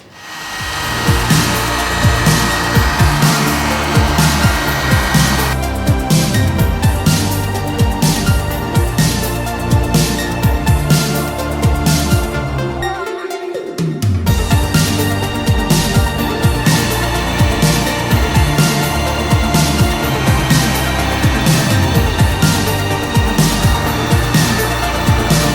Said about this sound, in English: we've got the heat gun, we've got the Wrinkle Plus, so we're just going to do it here